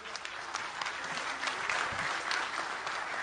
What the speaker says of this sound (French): avec un sale applaudissement dans la salle.